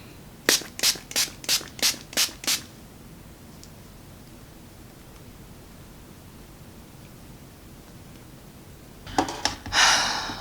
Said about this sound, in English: I'll use the setting spray.